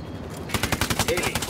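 Rapid machine gun fire from an Apache helicopter in the video game Ghost Recon Wildlands starts after a short, muffled lead-in, sounding as loud, close bursts of evenly spaced shots.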